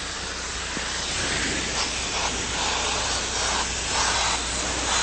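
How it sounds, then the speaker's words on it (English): An airbrush sprays purple paint, lightened with magenta, onto a truck's bed panel for custom automotive graphics, producing a close, steady, unbroken hiss with slight swells and no talking. "I'm going to begin to spray now."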